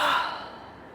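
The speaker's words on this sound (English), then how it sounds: "Now that made me yawn because I was thinking about yawning." A single person's yawn, a breathy exhale that starts loud and trails off over about a second, alone with no talk.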